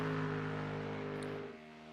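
Race cars in a GT Sprint racing video game crossing the finish line, a steady loud engine drone with layered tonal whine that drops away near the end as the cars pass.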